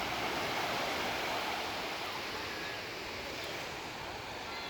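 Ocean surf at Surin Beach in Phuket washes in as a broad, steady hiss of breaking waves that eases slightly toward the end, with no voices.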